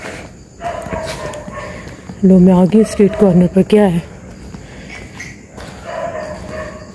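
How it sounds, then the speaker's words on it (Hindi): A dog barks in a quick run of several sharp, loud barks from a house down a street at night, while someone talks at the street corner before and after. "इस तरफ से आवाज़ें आ रही है, इधर किसी ने कुत्ता रखा है।"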